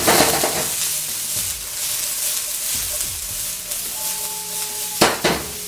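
Broccoli stir-frying in a hot oiled pan for Asian beef with broccoli, with a loud, close sizzle under scraping and tossing. A couple of sharp utensil knocks sound near the end.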